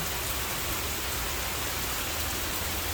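Heavy rain pours down steadily, a dense, loud, unbroken hiss of water striking surfaces close by with no other sounds.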